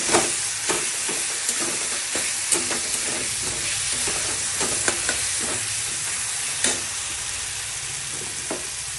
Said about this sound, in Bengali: কষিয়ে নিচ্ছি।